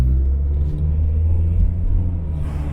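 A Rover 75 car accelerating, heard from inside the cabin as a deep, steady engine rumble with road noise, loud and close.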